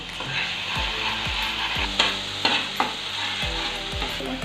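Onion paste frying in oil and stirred with a spatula, with a steady sizzle under rhythmic scraping strokes across the pan, close and continuous.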